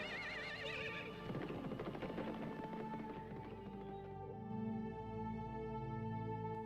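A horse neighs in a long, wavering whinny that rises and trembles, then settles into lower snorting tones, loud and close, with no one speaking.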